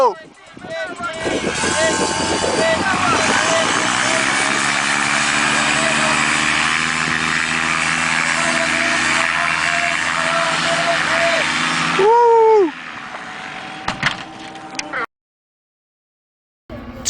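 Paramotor engine throttling up on a flying field, a loud buzzing propeller drone with rising harmonics that holds steady, then drops sharply in pitch and cuts off, followed by quiet and a few faint knocks.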